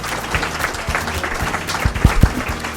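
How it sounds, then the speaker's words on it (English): An audience gives a round of applause to panelists being introduced at a medical center panel discussion, with uneven, fairly close clapping and a few sharp loud claps standing out near the end. "A round of applause before they say anything."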